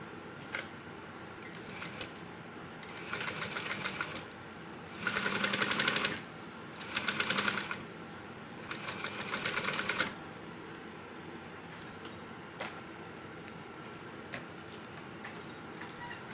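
A sewing machine stitches the seam of a bucket backpack at an eighth-inch allowance, several short rapid mechanical bursts of whirring with quiet gaps between them.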